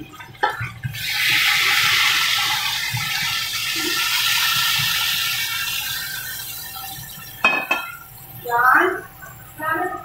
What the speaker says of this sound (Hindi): और अभी शामिल करूँगा मैं इसमें पानी।